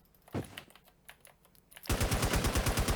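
Gunfire in a GTA roleplay game: after scattered faint clicks and taps, a loud automatic weapon opens up with a fast, evenly spaced string of shots that runs to the end.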